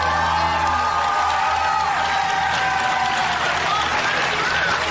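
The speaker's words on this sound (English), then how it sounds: "Gonna ask the audience, starts cheering in advance" A game show studio audience cheers and applauds in a dense, steady roar of clapping, whoops and shouts that fills the whole stretch without a break.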